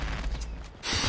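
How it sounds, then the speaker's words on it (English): A gun magazine changes in the Call of Duty Mobile multiplayer game, a short burst of mechanical clicks and ratcheting metal, close and fairly loud, alone. "Changing mag."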